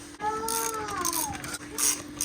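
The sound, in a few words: ratchet removing seat bolts in Honda Civic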